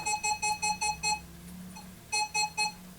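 Quick, high warbling beeps from a Minelab X-Terra 705 metal detector over a silver 1924 20-kopeck coin come in rapid bursts, pause, then resume, over a faint background hum.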